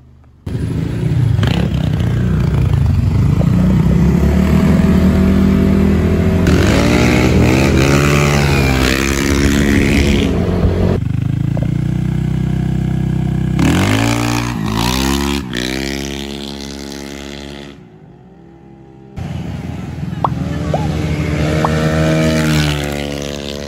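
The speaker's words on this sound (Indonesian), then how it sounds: "Jadi setelah ini coba kita test drive di Vario yang kita buat menggunakan piston 2 dan head Vario." A Honda Vario 125 scooter fitted with a 175cc bore-up kit, second-size piston and Vario 150 head, is ridden on a test drive. It makes a loud buzzing engine note that rises and falls through revs, with brief drops and a near-silent lull.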